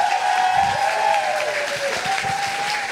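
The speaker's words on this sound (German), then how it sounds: "Wie klingt euer Applaus für so eine Slammerin?" Steady audience applause at a 2017 science slam, sustained clapping from a full crowd with a few scattered cheers and whoops mixed in.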